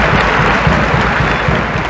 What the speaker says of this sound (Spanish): La grada se pone en pie para aplaudir a los médicos de la Cultural cuando regresan a su banquillo.